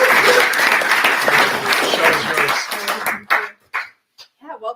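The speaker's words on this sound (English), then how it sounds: "let's give Anna a real round of applause." An audience at an arts and lectures event claps, a dense burst of applause that fades out to a few scattered claps, with a voice briefly heard near the end.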